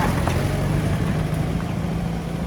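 A 1947 Willys CJ2A Jeep driving around a ranch, its engine giving a steady low rumble and drone that stays fairly loud and constant throughout, with no talking.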